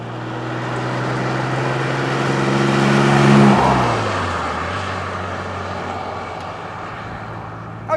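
An Alvis TE21 car, a Rolls-Royce-built classic, driving past with a steady engine drone that swells and drops in pitch as it passes, then continues as broad road and wind rush, loud and close.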